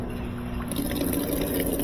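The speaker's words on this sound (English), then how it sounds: "And we'll see how much water it puts in" Water rushes steadily into a high-efficiency washing machine drum as it fills, a close, continuous hiss and gurgle.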